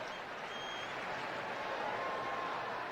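Stadium crowd at a Padres–Dodgers baseball game in Los Angeles roars in a steady, distant wash after a home run, sustained without breaks.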